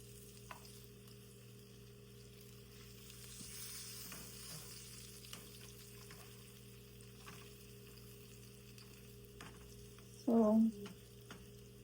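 Ravioli frying in a pan of oil give a steady low sizzle and bubbling under a mains hum, with a brief louder crackle near the end as more pieces go in; a voice speaks a single word.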